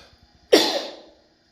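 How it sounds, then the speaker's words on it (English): A single sharp, close cough bursts out abruptly and then fades over about half a second, with quiet surroundings before it. "picked up a deadly cough"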